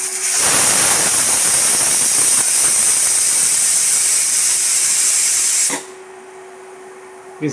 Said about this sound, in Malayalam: കുക്കർ വെച്ചിട്ടുണ്ടെങ്കിൽ ഇനി നമുക്ക് വിസിലടിക്കുന്നവരെ ഒന്ന് വെയിറ്റ് ചെയ്യാം